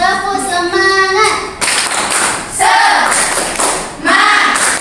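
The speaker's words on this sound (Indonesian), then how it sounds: "tepuk semangat" Schoolchildren perform the tepuk semangat spirit clap in a primary school class, with sharp rhythmic clapping in quick sets and children's chanting voices between the claps.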